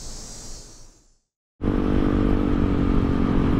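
A GY6 Ruckus scooter engine fades, drops briefly to silence, then roars back loud and steady with a continuous buzzing drone during a test ride, close up, with no voices.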